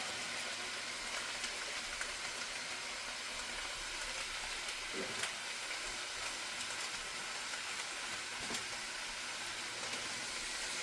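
Ground beef frying in a pan with chili powder gives a quiet, steady hiss with faint crackles throughout, no voices.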